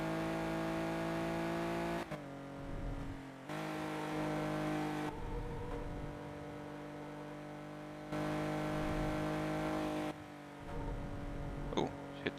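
Porsche engine from the Need For Speed Porsche Unleashed racing game, a steady loud engine drone carried at speed downhill on the Monte Carlo stage, with abrupt shifts in tone across the clip.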